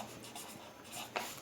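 A pencil or pen scratches across paper in a short burst of writing strokes, soft and close, with a sharper stroke near the end and no speech.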